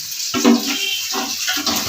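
Water runs and splashes steadily into a pressure cooker pot, close by, with a gurgling, uneven flow and no talking.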